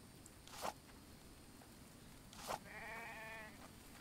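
A sheep in the survival video game The Infected gives one short wavering bleat, quiet and fairly close, while two soft rustling thumps land before it in an otherwise still, faint scene.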